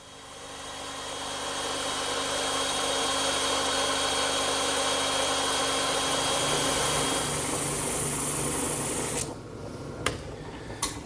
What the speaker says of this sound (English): that's another job for the bandsaw